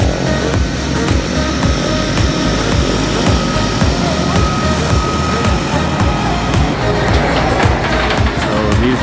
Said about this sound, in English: right as the plane is landing.